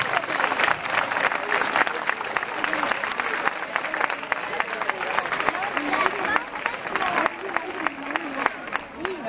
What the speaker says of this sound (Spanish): ¿Dónde está el aplauso?